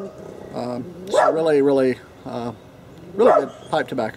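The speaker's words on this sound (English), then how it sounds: "I don't know how annoying the dog barking is going to be" A dog barks outdoors a few times, short yips and barks mixed with someone talking close by on a calm day.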